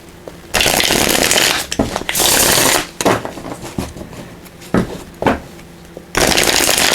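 A Runic Tarot card deck is shuffled in several brisk riffling bursts up close, separated by brief pauses and softer handling sounds.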